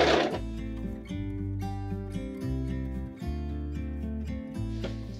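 A sewing machine runs a locking stitch on a zipper pouch, a quiet, close mechanical hum that starts and stops in short bursts with steady tonal whirring in between.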